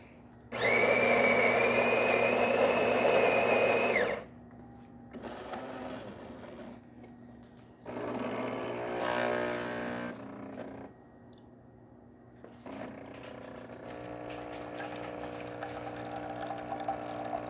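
Jura coffee machine brewing the second shot of a double: a loud pump buzz for a few seconds, then quieter intermittent whirring and humming phases as espresso flows, close and with no voices.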